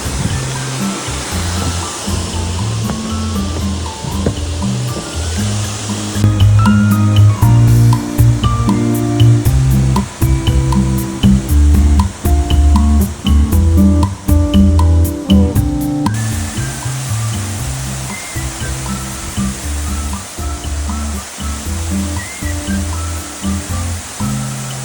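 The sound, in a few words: Love Waterfall near Sapa, Vietnam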